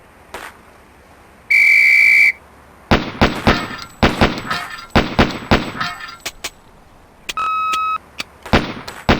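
A loud electronic whistle blast signals the start of a timed shooting drill in the Police Quest: SWAT video game, followed by a rapid series of sharp gunshots and metallic pepper-popper hits, then a second whistle tone and more shots.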